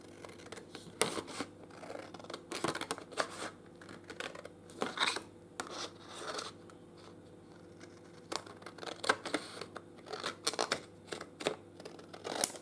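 Scissors snipping around paper, quiet close clicks and cuts in irregular bursts separated by brief pauses, soft handling rustle between.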